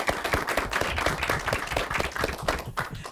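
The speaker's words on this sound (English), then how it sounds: "Big round of applause for yourself." Audience clapping at an elementary school derby match event, a modest crowd of hands applauding with distinct individual claps, moderately loud and steady before tapering slightly at the end.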